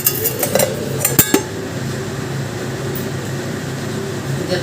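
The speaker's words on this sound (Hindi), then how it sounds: "और अभी तक करूँगी बर्तन साफ।" Dishes, pots and utensils being washed in a home kitchen give a few quick metallic clinks and clatters at the start, followed by a steady hiss of running water.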